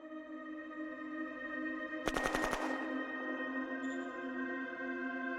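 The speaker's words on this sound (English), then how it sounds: "Here we've got artillery support instead" A brief burst of rapid artillery fire from a Shadow Empire strategy game, a short cluster of sharp cracks over a steady droning music bed, with a faint tone afterward.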